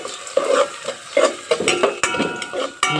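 Garlic and onion frying in cooking oil, with sizzling bursts and the scrape of a utensil stirring the pan in an irregular rhythm, close and moderately loud.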